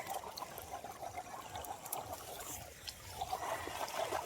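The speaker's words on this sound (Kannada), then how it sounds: "ಈಗ ನೀರು ಹೊಳ್ಸೋಣ." Water for irrigation trickles and gurgles quietly and continuously, a faint, close-by stream of flowing water with no one speaking.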